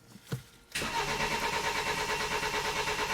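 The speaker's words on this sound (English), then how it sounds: "So what I'm going to do is I'm going to crank the engine." A BMW X3 that cranks but won't start: after a couple of faint clicks, the starter engages and the engine cranks with a steady, rapid pulsing whir, close and loud, continuing to the end.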